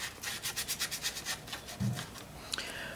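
A paintbrush is dragged and wiped across cardboard to squeeze out water, making a series of soft, rhythmic scraping rubs close by, then a brief pause and one or two final strokes.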